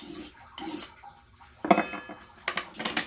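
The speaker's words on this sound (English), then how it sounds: "Now I'm draw filing towards the edge, which will eliminate a burr" A file is drawn along the edge of a Fiskars X27 axe in short, scraping metallic strokes, three or four separate passes with pauses between them, close and fairly quiet.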